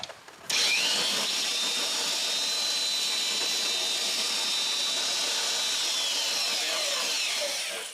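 A power drill whines steadily as it bores a pilot hole into a wooden platform for several seconds, starting abruptly and holding a loud, continuous grinding tone close by.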